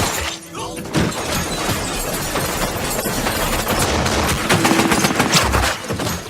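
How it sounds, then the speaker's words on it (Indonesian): Sustained gunfire in an ambush on a convoy of soldiers in a bus, a dense crackling barrage of overlapping shots and sharp impacts that rolls on loudly and continuously, with brief spikes of heavier bursts throughout. "tembakan bertubi-tubi menghujani para konvoi tentara India yang berada di bus tersebut"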